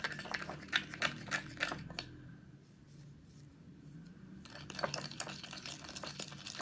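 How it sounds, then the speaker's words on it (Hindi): A homemade hands-and-feet whitening paste is stirred in a bowl with a spoon, giving a few quick scraping strokes, then a quiet pause, then more close stirring and tapping at a moderate level. "तो अच्छे से मिक्स कर लेते हैं हम लोग।"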